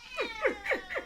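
A cat meows four times in quick succession in a room, close and fairly loud.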